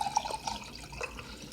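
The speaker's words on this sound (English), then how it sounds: "I'm going to put hot water." Hot water splashes and trickles as it is poured for mandarin juice tea, a short, light liquid pour with small splashy bursts near the microphone, heard alone.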